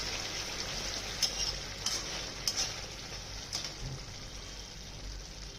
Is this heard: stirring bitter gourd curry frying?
yes